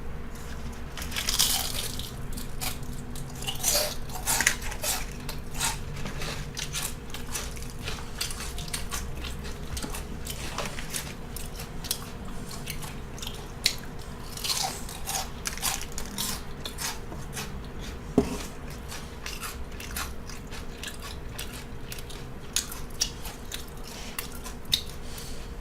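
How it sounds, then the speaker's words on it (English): Crispy Jack in the Box fast-food onion rings crunch and get chewed close to the mic, with steady rhythmic bites and munching throughout and occasional louder crunches. "Do you hear this? This is why I love Jack in the Box onion rings."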